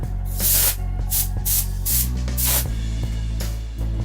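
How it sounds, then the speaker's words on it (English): A can of compressed air hisses in short repeated bursts as it blows debris off a computer, each spray loud and close, over a steady low hum. "take your compressed air and kind of blow away any debris"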